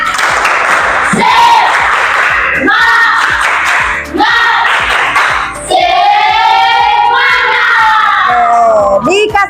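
A group of children in a classroom perform a tepuk semangat clapping chant, sharp rhythmic claps in unison punctuated by loud, high shouted calls, ending in a rising collective cheer.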